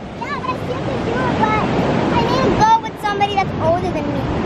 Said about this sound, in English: Oh, the waves are too big?